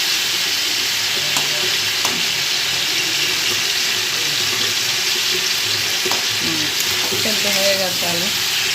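Food fries in a pan with a constant close sizzle of hot oil, broken by a few light clicks of stirring and brief voice murmurs toward the end.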